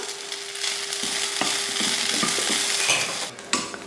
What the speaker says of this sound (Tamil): வெங்காயம் தேங்காய் எல்லாம் நல்லா வதங்கிருச்சு.